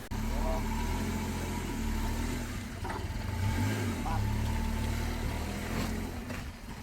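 A car stuck climbing a rough, steep road to a hillside resort near Chikmagalur, its engine droning low and steady with mild revving surges, fairly quiet under rustling background noise.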